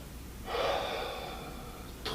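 A single deep, audible breath taken close up during a leg workout stretch, a long airy inhale that fades slowly, followed by the start of another breath at the end.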